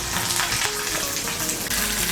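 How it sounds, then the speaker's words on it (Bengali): A spoonful of ginger paste hits hot oil with a little water in a pan, a loud, continuous close sizzle with brief stirring sounds. "এর মধ্যে আমি দিয়ে দিচ্ছি 1 বড় চামচ আদা বাটা"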